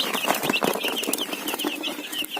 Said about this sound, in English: So these are broiler chicks, and I'm gonna take them.